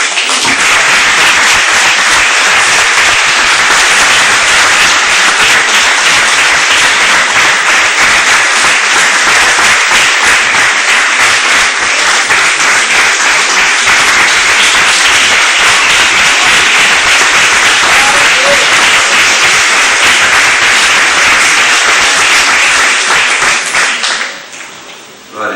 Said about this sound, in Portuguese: Vamos dar mais uma linda salva de palmas para o Criador?